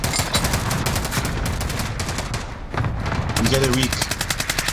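Gunfire in a multiplayer shooter video game: steady rapid automatic shots with a short lull, loud and close, while players talk over it.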